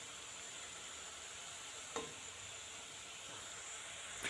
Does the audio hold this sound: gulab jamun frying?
yes